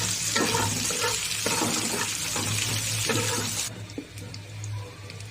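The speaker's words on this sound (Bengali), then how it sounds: "সমস্ত সবকিছু সরিষার তেলে ভাজা হচ্ছে" Ingredients fry in hot mustard oil in a pan, giving a close, steady sizzle broken by repeated stirring scrapes; the hiss eases off near the end.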